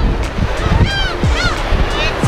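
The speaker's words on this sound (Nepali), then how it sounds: "छल पानीको स्वर" Waves splash on the seashore at Oido in Siheung, a close, gusty wash of surf mixed with wind noise on the microphone. Voices and passing chatter are heard over the water.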